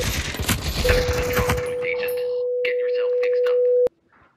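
Rapid bursts of gunfire in the game Spatial Ops crackle loudly at the start, then give way to a long steady electronic tone that cuts off abruptly, with softer game effects scattered underneath.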